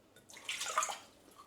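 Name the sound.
pouring water into a saucepan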